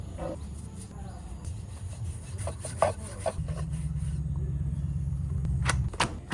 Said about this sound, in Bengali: এখন এই প্যারা দিয়ে রুটি বেলতে হইবে।